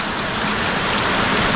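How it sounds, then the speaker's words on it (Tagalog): Heavy rain pours down steadily, a dense, loud, continuous hiss and patter of drops hitting surfaces close by, with no voices. "ang lakas na naman ng ulan"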